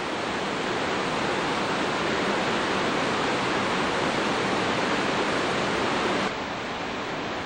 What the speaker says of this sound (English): we're standing right next to the creek there, or in it even